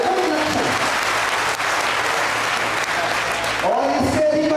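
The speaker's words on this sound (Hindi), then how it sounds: "दोनों हाथ हमारे उठाकर तालियां बजा के आप बताएं कि आयोजन विलक्षण" A crowd at a Rajput community oath-taking and honour ceremony in a town hall claps steadily for several seconds, loud and dense, and the clapping fades out as a voice begins to speak.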